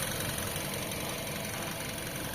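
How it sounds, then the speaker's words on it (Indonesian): Idling Mazda 2 with a 1500 cc DOHC 16-valve engine, heard as a steady, even hum and mechanical whir throughout with no revving or voices. "bisa kita dengar suara mesinnya di sini tidak terlalu berisik ya teman-teman, masih normal dan halus"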